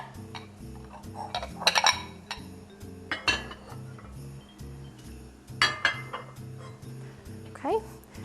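Dinner plates and small salad plates clink and knock together as a Christmas table is set, with several bright ceramic clatters in bursts over a low steady hum, including a sharp cluster near the start and another later.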